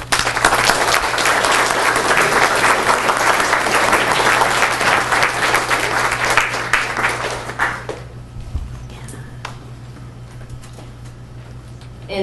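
An audience at a school DARE graduation applauds the essay winners, loud dense clapping for about eight seconds that then thins to a few scattered claps and quiet room noise.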